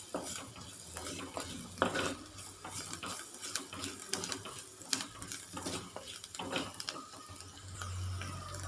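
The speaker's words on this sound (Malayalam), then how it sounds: "പൊടികൾ കരിഞ്ഞു പോവാതെ പച്ച മണം മാറുന്നവരെ വഴറ്റി കൊടുക്കാം." Chili, pepper and turmeric powders being sautéed in a pan for a brinjal stir-fry, with steady close stirring, scraping and faint sizzling under scattered clinks of utensil against pan.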